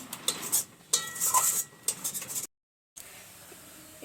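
Liquid milk goes into freshly made caramel in a pan for biscuit laddu, followed by bursts of scraping and stirring with a utensil against the pan, a brief full silence, then softer stirring resuming.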